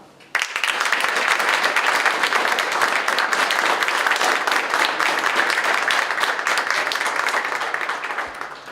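Steady, dense applause from an audience at a school's 60th anniversary celebration and exhibition opening, starting abruptly and holding at an even level throughout before easing slightly at the end.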